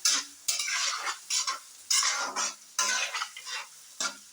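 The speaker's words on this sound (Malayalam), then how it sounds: "ഇനി ഇതൊന്ന് വഴണ്ട് വരട്ടെ." Green chillies being sautéed in a pan for Kerala beef roast, with a spatula stirring in bursts of scraping, sizzling strokes close by and short pauses between them, and no talking.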